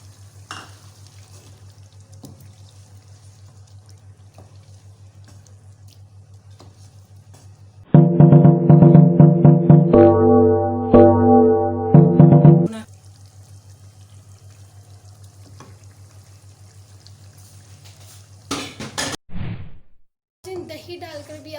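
Yogurt poured into karahi gosht masala as it fries and then stirred in, a sudden loud sizzle and hiss followed by scraping stirs for several seconds, set against a quiet, steady background hum, with a few brief clatters near the end.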